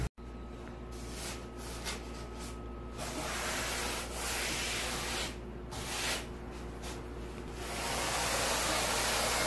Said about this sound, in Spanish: Miren, ahí está lijando ya don Saúl